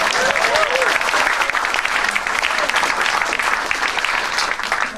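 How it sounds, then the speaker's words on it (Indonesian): Dense, lively applause from a stand-up comedy audience, loud and continuous for the whole stretch with faint crowd murmur mixed in. "Boleh tepuk tangan dulu."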